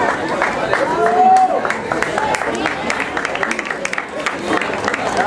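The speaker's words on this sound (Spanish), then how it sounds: "Le damos un fuerte aplauso al señor Miguel Pérez, del primer lugar de la categoría seniors." Applause for the first-place winner of a senior men's category at a sports award ceremony: a steady wash of crowd clapping with sharp individual claps, mixed with voices and general crowd noise throughout.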